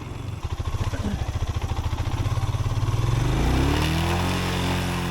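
A Royal Enfield Himalayan single-cylinder motorcycle labours on a rough, sandy track, its engine thumping in a rapid, even pulse that swells louder as revs climb into a sustained drone.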